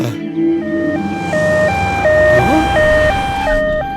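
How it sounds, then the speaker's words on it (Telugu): In a film comedy scene, a loud ambulance siren wails close by, alternating between two tones in a steady hi-lo pattern, with faint voices underneath. "అంబులెన్స్ అనగానే అలా వచ్చేసింది?"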